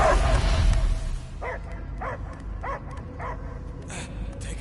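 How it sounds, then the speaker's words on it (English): Dog barking in the video game Marvel's Guardians of the Galaxy: five short, evenly spaced barks of moderate loudness rise over a low game ambience after a louder rumble at the start. "I hear only barking."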